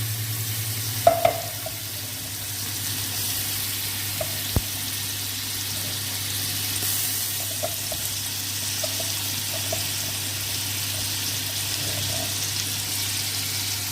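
Paste sautéing in hot oil in a very large cooking pot, a soft steady sizzle with a few sharp clinks of a spoon against the metal, no talking.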